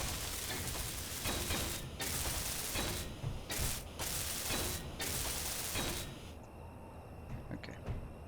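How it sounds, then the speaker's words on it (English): A welding tool working on blocks in the modded Space Engineers game gives a steady, harsh hissing and sizzling spray. It runs almost continuously with a few brief breaks before trailing off quieter near the end. "we need to weld some stuff up first"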